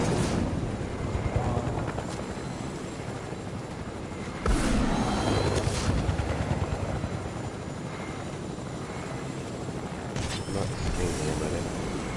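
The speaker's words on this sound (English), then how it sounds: "That helicopter crushed me and just got rid of more of my shield." A helicopter in the Fortnite battle royale game thumps and whirs steadily at close range, with louder surges partway through and mechanical clanks mixed in.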